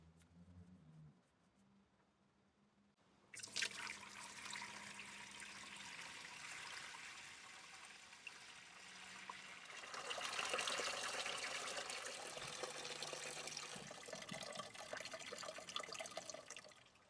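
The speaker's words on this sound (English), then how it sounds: "It's definitely draining, but we definitely have some sludge down there." Fluid drains from the clutch compartment of a Caterpillar D3 LGP bulldozer, a steady splashing trickle that starts abruptly after a few seconds of quiet, then swells louder and fuller midway as the flow continues, close and alone.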